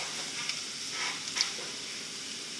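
Shrimp sizzling in a pan with minced garlic, a steady soft crackle and hiss throughout with a couple of brief louder pops, close and fairly quiet with no talk.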